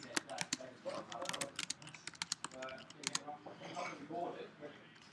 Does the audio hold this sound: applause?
no